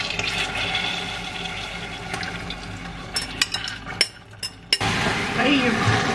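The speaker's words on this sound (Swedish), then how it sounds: "nu kommer jag hälla i det här." Someone pours an ingredient into a pot while baking brownies at home, making a steady liquid pour that is broken by several sharp clinks, with speech nearby.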